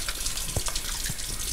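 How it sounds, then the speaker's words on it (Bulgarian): Tap water runs in a steady, close stream into a basin, a continuous rushing wash with a few small splashy blips and no voices. "Докато си миете зъбите или се бръснете, спирайте водата."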